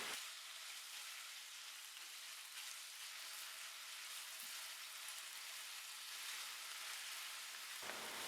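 Cubed chicken frying in a pan gives a faint, steady, hissing sizzle that holds evenly for several seconds before cutting off near the end.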